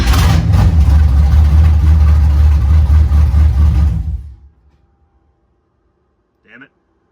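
A Nissan 240SX drift car with a swapped LS V8 runs loud and rough for about four seconds, its deep engine rumble dominating before it cuts out abruptly into near silence, followed by a brief short sound near the end.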